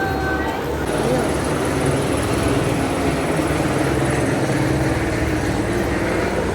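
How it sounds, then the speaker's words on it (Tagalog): A white helicopter circles above a crowded religious feast in Quiapo, a steady rotor roar mixed into busy crowd noise with people talking throughout. "May umiikot na helicopter."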